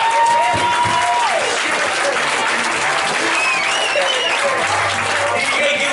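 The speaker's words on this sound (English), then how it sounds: "Keep that applause going right now for your closure for the night" Comedy club audience at the Blue Room claps steadily and loudly for a closing act, a thick even wash of applause with a few voices calling out within the crowd.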